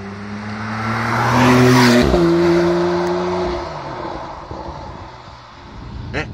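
Porsche 911 Carrera S (991 Gen. 2) accelerating with overboost, a loud engine roar climbing in pitch, a gear change near the middle, then easing off as the car passes.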